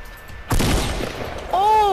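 Gunfire in the Fortnite Battle Royale game: a sudden loud burst of shots, then a ringing, wavering tone near the end, with no talking.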